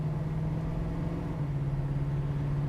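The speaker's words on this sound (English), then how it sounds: "Running through some gears here." A 1969 Mercury Cougar XR7 engine drones steadily while driving through the gears, a constant low hum heard from inside the car with no voices.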